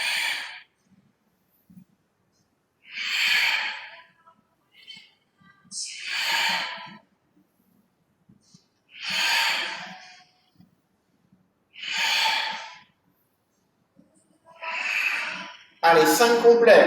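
Forceful breaths during a Pilates exercise, six or seven long, loud exhalations through the mouth in a slow regular rhythm, separated by near silence, with a final breath running into more noise at the end.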